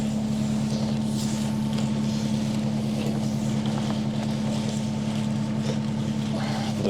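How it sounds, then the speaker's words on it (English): A smelly diesel excavator runs close by at a trench-digging site, its engine droning in a steady low hum with a strong tonal drone, loud and continuous, with faint wind and scattered background noise. "There's just a diesel smelly excavator in front of me."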